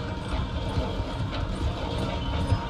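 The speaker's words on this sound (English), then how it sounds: "The train is slowing down to go through the station." A steam train in Red Dead Redemption 2 slowing as it rolls through a station, a low rumbling chug with rhythmic clacking and rattling wagons, held at an even moderate level, with no talk.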